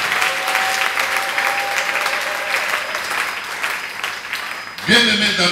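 Applause from a church congregation fills most of the moment, dense and sustained, with a voice rising over it near the end.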